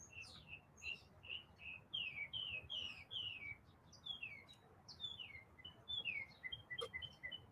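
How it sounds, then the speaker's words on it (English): A bird sings a series of bright, repeated chirping phrases, fairly faint and steady, with quiet background ambience and no talking. "You hear the bird singing?"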